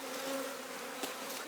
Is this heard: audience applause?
no